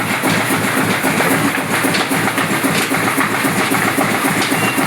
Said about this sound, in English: the engine is over there running.